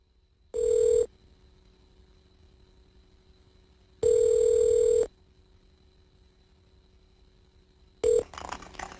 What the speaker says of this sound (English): this is a collect call from Brendan.